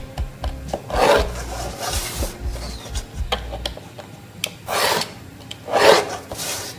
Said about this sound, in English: Now from the back of the cutter I will make the flap.